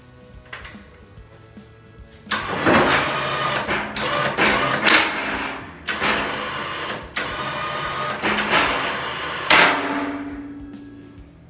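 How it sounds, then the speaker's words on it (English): Electric winch on a Honda Pioneer 520 pulling a snow plow push tube, whirring in several bursts of varying length with abrupt starts and stops and a close, fairly loud mechanical drone. "And re-engage the winch."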